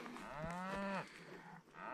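Cattle at a rural Montana homestead site moo loudly and close, one long drawn-out low call followed by a second shorter bellow, with no talk over them.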